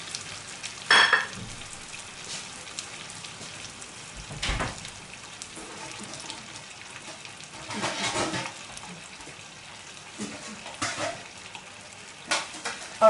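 Potatoes, chistorra sausage and egg sizzle in a frying pan over low heat, a steady hissing crackle with brief louder spits and pops scattered throughout, close and alone with no talking.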